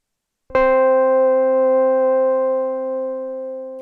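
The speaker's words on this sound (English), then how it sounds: "running our synth, our clean digital synth, through this really dirty, slightly delayed sound" A single sustained clean digital synth note through an Intensive Care Audio Fideleater lofi pedal, with a sharp onset, held steady for several seconds with a buzzy, slightly gritty harmonic tone that fades a little at the end.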